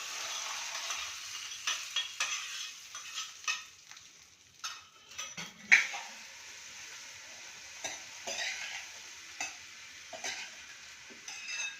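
Curry leaves drop into hot oil for a mung dal salad, giving a soft sizzling hiss broken by irregular clinks and taps of a utensil against the pan, fairly quiet and with no voices.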